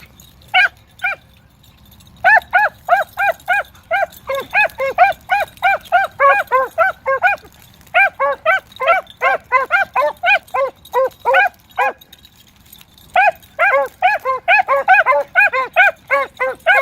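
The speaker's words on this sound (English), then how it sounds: "These slower dogs don't push that rabbit out there and make him" Hunting dogs bay in long rhythmic runs of barks and yelps while chasing a rabbit outdoors, several voices overlapping, moderately distant, with short pauses between bursts.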